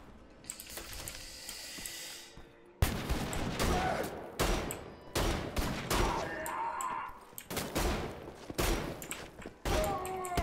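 Shockhammer shotgun blasts in Wolfenstein The Old Blood, a rapid run of loud, close booming shots after a quieter opening, each burst cutting off sharply, with faint game effects between them.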